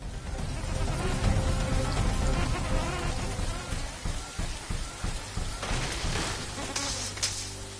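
Steady rain patters and hisses across the terrain in the video game The Riftbreaker, a dense continuous wash with scattered sharper drops and faint creature or insect-like buzzing, no speech.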